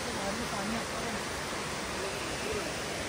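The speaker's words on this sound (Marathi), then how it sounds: "धबधब्याचा आवाज किती येतोय बघा गाईज" A waterfall at a hidden outdoor spot roars as a steady, dense wash of broadband noise, close and continuous throughout with no break.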